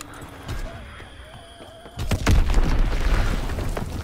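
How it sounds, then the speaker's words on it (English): A bomb blast in Call of Duty: WWII lands at about two seconds as a heavy booming impact, and a loud rumbling roar follows and holds to the end, over quieter game ambience and a faint tone beforehand. "Enemy bomb incoming."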